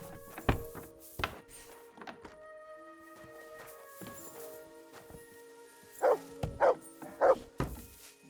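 A dog in the medieval game Kingdom Come Deliverance II barks in short, sharp bursts: two early, a couple more faint ones, then a quick run of three or four near the end, with soft thunks between in a quiet scene.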